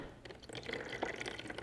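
Spotted Purple glaze is poured over the handle of a small clay pottery piece, giving a soft, steady trickle with scattered drips, quiet and close.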